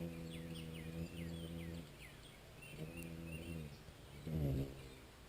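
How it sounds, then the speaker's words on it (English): Chirping bird calls repeat high up over a steady buzz of insects and a low droning hum, fairly faint and distant. "you can hear the bird."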